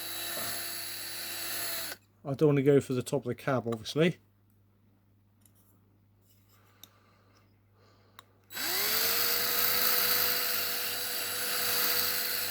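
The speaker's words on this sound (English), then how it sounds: "I'm just going to try and drill a bit more out." Small drill working on a glued diecast Matchbox No 11 scaffolding truck toy during a strip-down, a close, steady whine starting after a brief spoken remark and running for several seconds, with a quiet gap before it.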